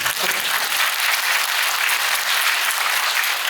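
Residents at an apartment reconstruction briefing meeting break into a short, steady round of applause, dense and even from start to finish with no talking over it.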